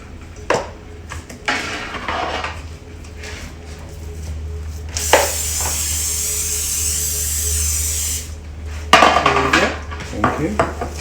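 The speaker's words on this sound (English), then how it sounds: "can you spray that pan for me?" Cooking spray hisses onto a baking pan in a home kitchen, a steady aerosol spray lasting about three seconds, between clinks of pans and utensils and some kitchen clatter.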